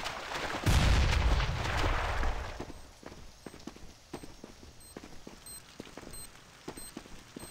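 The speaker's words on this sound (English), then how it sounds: "grenade!" A grenade blows up in a competitive first-person shooter with a loud, close boom and a rumbling tail that fades over about two seconds. Sharp clicks and footsteps follow, and there is no talking.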